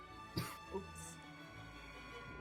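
Two quick coughs, the first sharper and louder, heard close against a quiet hum, with a faint voice murmuring afterward.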